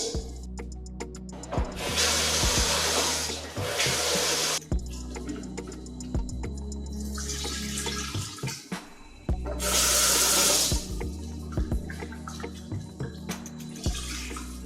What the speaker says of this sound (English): Next, we are going to wash our chicken and put it in a cooking pot.